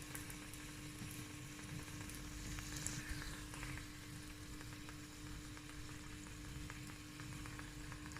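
Puri bread fries in deep hot oil with a faint, continuous bubbling sizzle, low and steady throughout with a few small crackles and pops.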